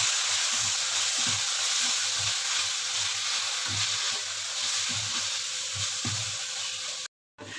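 Cumin and Kashmiri chilli sizzle in hot oil in a pan for kofta chana curry, a constant close frying hiss with soft, rhythmic stirring taps, cutting out briefly near the end. No speech is heard.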